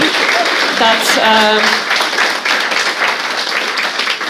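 A room full of people at a youth work keynote gives a steady round of applause, loud and dense throughout, with a voice speaking briefly over the clapping near the start.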